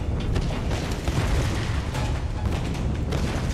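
Explosions in the 2013 Tomb Raider video game, a dense continuous roar of blasts and rumbling debris, loud and broadband throughout with no clear gaps and no voices.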